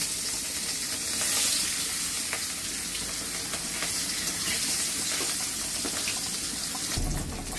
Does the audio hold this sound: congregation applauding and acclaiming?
no